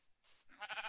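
A brief sheep bleat from Minecraft, quiet and close, a single wavering call rising after a short soft lead-in, heard alone.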